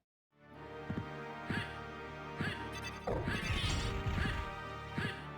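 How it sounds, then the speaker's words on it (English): In the Castlevania: Symphony of the Night video game, a wing smash crashes through the floor: a run of evenly spaced thumping game impacts, then a louder crunching smash partway through, all over continuous game audio. "Dude fell through the floor by just wing smashing into it."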